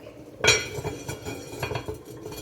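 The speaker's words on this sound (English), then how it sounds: "If I can get the right lid again, I'm going to cover it up" A metal lid clanks onto a cooking pot of jambalaya with a bright ringing clang, followed by a few softer rattles and clinks as it settles.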